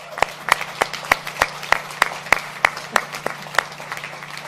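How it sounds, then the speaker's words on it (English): Workers gathered at a Honda plant announcement clap, though only a few hands are heard: sharp, separate claps land in a steady rhythm of about three a second, fairly close. "you deserve a big round of applause"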